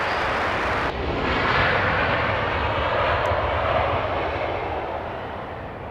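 An airliner landing on runway 24 right at Los Angeles International Airport, a loud steady engine roar sustained throughout and fading slightly toward the end, with no voices.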